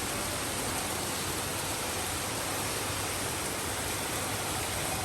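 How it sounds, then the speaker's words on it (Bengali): Heavy torrential rain pours down in a steady, dense, loud hiss that fills the whole stretch with no pauses and no voices. "জাস্ট দেখো মুষলধারে বৃষ্টি হচ্ছে"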